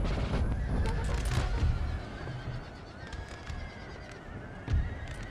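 Cavalry horses neighing and whinnying amid a dense battle din in the Napoleon: Total War video game, with hoofbeats and distant gunfire mixed in throughout.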